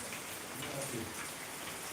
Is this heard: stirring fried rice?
no